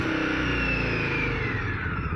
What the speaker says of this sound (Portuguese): Oh, olha para este escape.